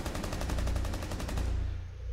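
Rapid automatic gunfire in a Rainbow Six Siege match on the Kanal map, a steady rattling burst of evenly spaced shots that stops abruptly near the end.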